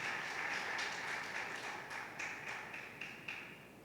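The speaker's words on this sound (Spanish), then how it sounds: "Dale un fuerte aplauso a ese rey de reyes y señor de señores." Church congregation applauding, a steady spread of clapping that thins out toward the end, with a few louder individual claps standing out.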